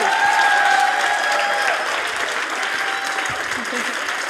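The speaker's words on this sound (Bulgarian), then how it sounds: "Аплодисменти." An audience claps in a continuous burst of applause that fades slightly toward the end, with a few voices faintly audible over it.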